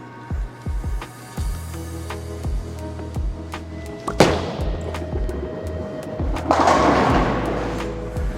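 Bowling balls rolling down a lane in an alley, repeated heavy thuds and a low rolling rumble, then a loud crash of pins near the middle and another rumbling impact toward the end, with no talk.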